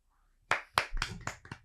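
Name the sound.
hand clapping in a podcast studio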